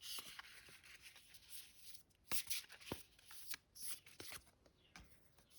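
Katora Tarot cards are shuffled by hand, with crisp riffling bursts and soft sliding rubs coming in irregular clusters, close and quiet with no talk.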